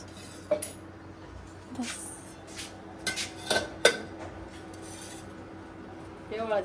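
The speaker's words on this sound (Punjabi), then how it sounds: "ਇੱਕ ਚਮਚਾ ਛੋਟਾ ਇੱਕ ਛੋਟੀ ਡੰਡੀ ਵਾਲਾ ਕੱਢੀ ਡੋਲੂ ਚ ਧਰ ਦਾਂਗੇ" Metal spoons clatter and scrape as they are handled and dropped into a pot, with several separate clinks and rasping rubs spread out over quiet moments.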